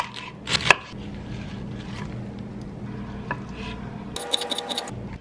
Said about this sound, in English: then I'm cutting up bok choy